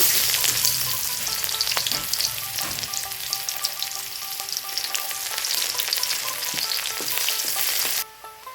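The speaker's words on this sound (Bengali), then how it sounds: "দিয়ে দেবো সর্ষের তেল তেলটা গরম হয়ে যায় আমি দিয়ে দিব পেঁয়াজ" Onion frying in hot mustard oil, a steady loud sizzle with crackling pops and occasional stirring scrapes; the sizzle drops off abruptly near the end.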